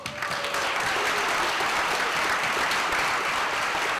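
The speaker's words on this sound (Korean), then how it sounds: "그들의 결과에 그간 고생했다며 힘찬 박수를 보내는데요" A crowd at a Go tournament awards ceremony gives winners hearty applause, a dense, continuous, even roar of clapping held loud from start to finish.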